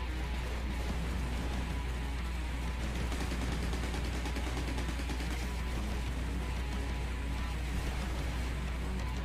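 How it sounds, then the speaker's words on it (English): Homing missiles launching and exploding in a space shooter video game against enemy ships, a dense, loud, continuous barrage of rapid crackling blasts over a heavy low rumble. "Let the homing missiles do their job."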